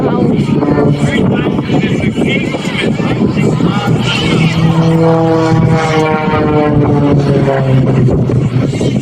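An aerobatic aircraft roars with a loud, continuous droning engine at the Hill Air Force Base Air Show 2024, its pitch sweeping as it maneuvers, while an announcer talks over it.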